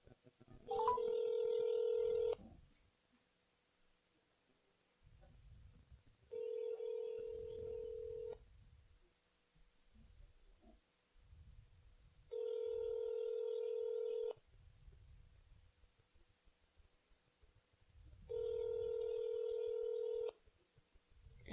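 A telephone line rings out on a callback: four evenly spaced two-second tones with silent gaps between them, heard faintly, with soft voices murmuring in the pauses.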